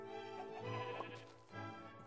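A sheep in the Minecraft video game bleats in a drawn-out, wavering call, followed by a second shorter bleat, clear and close with no talk over it.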